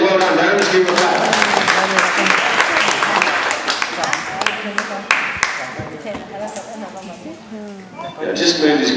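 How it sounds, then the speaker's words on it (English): An audience at a wildlife park applauds a sheep shearer after a clean shearing, a burst of sharp, scattered claps that thins out partway through and returns at the end, with someone speaking over it. "Let's give him a clap."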